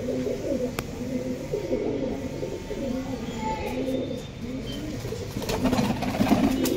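Pakistani pigeons in a loft in Purba Bardhaman coo in repeated low, throaty rolls close by, with faint murmuring voices in the background.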